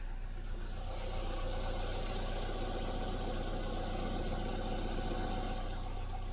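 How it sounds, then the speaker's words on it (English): An idling Toyota Corolla KE70 with an exhaust leak and a worn metal muffler gives a steady low engine rumble with faint puffing pulses, heard close and fairly quiet, with no speech. "I'm pretty sure this does have an exhaust leak somewhere. Yeah, you hear a little puffing noise around here"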